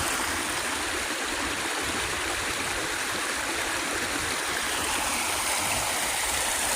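A creek with some ice still hanging on rushes steadily at a campsite, a dense, unbroken close-up wash of flowing water with no voices.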